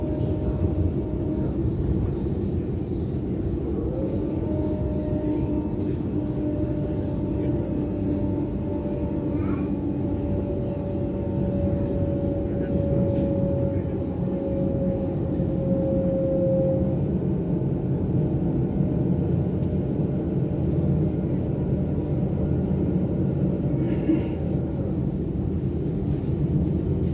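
A steady low rumble from inside a moving Sydney train on the Bankstown line approaching Sydenham, with a long tonal whine that rises and then fades and a few faint rattles.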